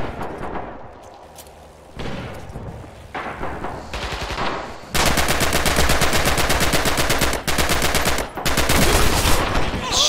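Rapid machine-gun fire in the Red Orchestra 2 war game: scattered shots at first, then long loud sustained bursts with short pauses between them.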